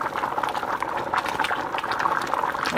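Brown rice and quinoa simmering in a pot of water give a steady bubbling, gurgling boil, close and continuous, with no voices over it.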